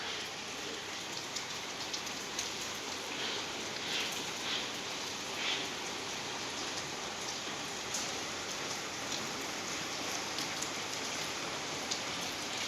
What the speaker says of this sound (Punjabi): ਮੀਂਹ ਨਹੀਂ ਹਟ ਰਿਹਾ